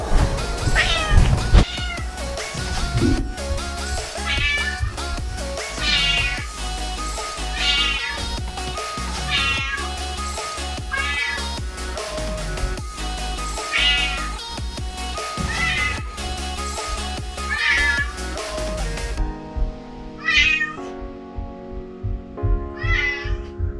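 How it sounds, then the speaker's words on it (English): A pet cat meows repeatedly and loudly up close, drawn-out calls in an irregular rhythm with a tonal, musical quality, ending in a few shorter meows. "This is our cat Shadow."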